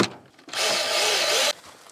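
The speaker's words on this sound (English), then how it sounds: "we are screwing the wood in now" A power drill driving a screw into wood for a raised duck pool build, a short whirring burst of about one second, close and fairly loud, between quieter handling noises.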